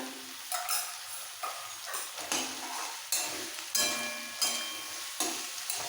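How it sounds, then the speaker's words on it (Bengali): Green chilli paste sautéing in oil for bata fish curry, a continuous close sizzle broken by regular stirring strokes that arrive roughly every half second to second. "একটু কষিয়ে নেবো এবার আর কষাতে কষাতে দিয়ে দেবো ছোট্ট এক চামচ জিরে পাউডার"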